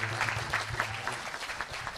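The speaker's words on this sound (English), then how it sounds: "A round of applause for" A lecture audience at a Bhagavad Gita talk gives a round of applause, steady broadband clapping lasting throughout under a faint low hum, with a voice briefly audible.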